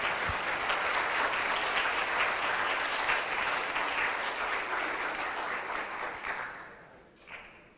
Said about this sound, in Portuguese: Vamos dar um aplauso à doutora